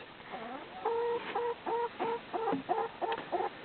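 Several chickens in a chicken tractor cluck in a quick, uneven series of short calls, fairly faint and nearby, with no voices.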